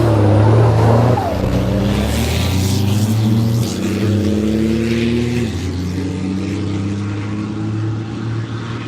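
Rally trucks at the Morocco Desert Challenge start roar loudly nearby, engines revving up through gears as one pulls away, pitch sweeping upward before the noise settles into a fading drone.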